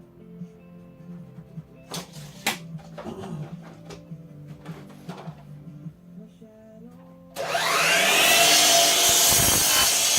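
A chop saw cutting a wood board: a few seconds of handling clatter and setup, then the blade roars in loudly and keeps cutting steadily through the wood to the end.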